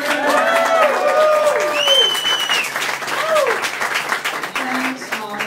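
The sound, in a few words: crowd applause and cheering at boat launch party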